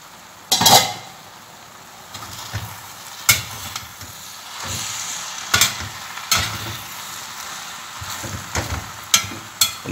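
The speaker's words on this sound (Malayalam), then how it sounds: "ശരിക്കൊന്ന് ഇളക്കി കൊടുത്താൽ" A spoon stirs cooked jackfruit puzhukku in a pot, giving close, irregular scrapes and knocks every second or so over a soft, steady cooking hiss.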